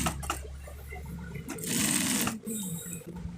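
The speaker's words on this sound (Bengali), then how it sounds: "এক সাইডের পকেটটা সেলাই হয়ে গেল বাকি সাইডের পকেটটাও সেমভাবে সেলাই করে দিতে হবে" A sewing machine stitching the pocket of a panjabi, running in a loud, close burst of rapid mechanical stitching for about a second, framed by quieter handling noise and short stops.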